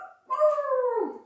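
A single drawn-out howling bark from a voice imitating a dog during a children's yoga session, close and loud, rising then sliding down over about a second.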